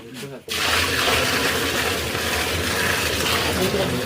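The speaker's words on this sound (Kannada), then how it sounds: "10 ಲೀಟರ್ ಗೋಮೂತ್ರ ಬರ್ಕೊಳ್ಳಿ, ಹಾಕಿ. ಗೋಮೂತ್ರ ಹಾಕ್ತಾ ಇದ್ದೇವೆ." Cow urine pours steadily into a container after a brief pause, about ten litres in a continuous splashing gush that fills the whole stretch, during natural farming preparation.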